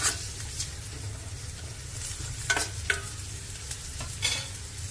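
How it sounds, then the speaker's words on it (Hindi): Chopped onion and green chili frying in oil over a high flame, a soft continuous sizzle with occasional stirring scrapes and clinks, close and fairly quiet, with no talking. "प्याज को हाई फ्लेम पर भूनना है"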